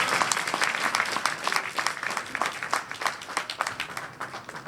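An audience at a stand-up comedy show in Multan bursts into sustained, dense clapping that swells and ripples throughout, loud and close with no talk over it.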